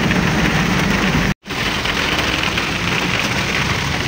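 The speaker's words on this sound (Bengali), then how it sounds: "প্রচুর বৃষ্টি।" Heavy rain pours down in a broad, steady hiss, with a low engine hum underneath and a momentary dropout partway through.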